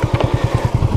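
A Honda CB250RS motorcycle on a muddy green lane revs hard with a rapid, steady pulsing engine note, close and loud, no voices.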